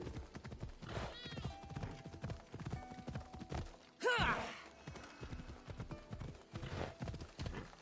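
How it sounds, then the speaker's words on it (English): Horse hooves clip-clop in the Assassin's Creed Odyssey video game, a steady rhythmic trot under game music with a short whinny in the middle. "Where's my horse? There's my horse."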